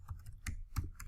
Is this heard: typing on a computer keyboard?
yes